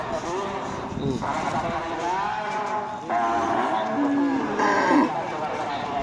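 Several cows moo loudly, one low call after another, with people talking nearby at a Karapan Sapi bull race selection event.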